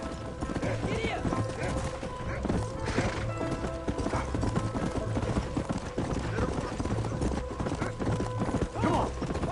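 Hooves of a fast-moving horse pound steadily in Red Dead Redemption, a constant clattering gallop under dense game ambience with occasional whinnies, while voices talk over it.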